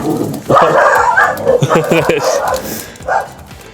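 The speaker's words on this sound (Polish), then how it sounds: "Piesy będą szczekały, ale my się nie przejmujemy." Dogs bark in short yips and whimpering bursts close by, mixed into excited talking and laughter indoors.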